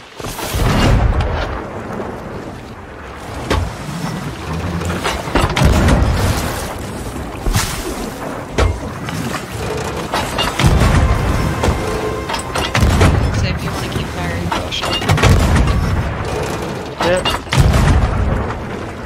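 Ship cannon fire in Sea of Thieves, with repeated loud booming blasts and crashes in a dense, rumbling naval battle, with voices talking.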